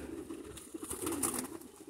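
A pigeon coos softly on a rooftop among other birds, a few low murmuring calls under faint background noise.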